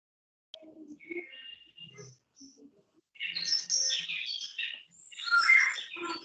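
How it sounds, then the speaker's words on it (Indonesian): Many small birds chirp and tweet in a busy burst, preceded by a few scattered short calls, moderately close and alone without talk. "Banyak burung."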